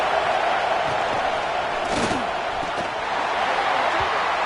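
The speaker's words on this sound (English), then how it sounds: "Man, this crowd really affecting the football game." A home crowd at a Texas football game roars in a constant, dense wash of noise, with a few thuds in the mix.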